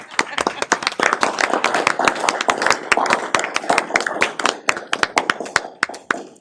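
Sherburne County board members clap at a meeting to welcome a newly seated member: a brisk, dense burst of sharp hand claps from a small group, close and steady for several seconds.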